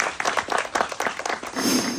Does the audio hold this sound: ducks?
no